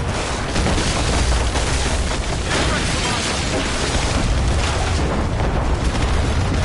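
Cannon fire in the Assassin's Creed naval battle aboard the Morrigan: a dense, continuous rumble of booming blasts and explosions filling the whole stretch, loud and close, with shouted voices mixed in.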